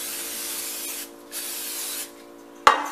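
Cooking spray hissing into a 9 by 2 inch cake mold in a home kitchen: a long steady spray, a short second burst and a faint third, ending in a sharp knock, close up with no talking.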